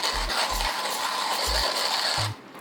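A hand coffee grinder set to 26 clicks being cranked, giving a steady close grinding, rasping churn with a few low thumps, ending abruptly as the turning stops.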